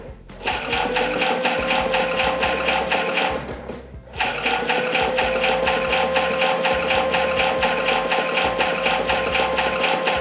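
A small toy washing machine drum whirs steadily with a rattling mechanical hum, briefly dipping once before resuming its continuous spin.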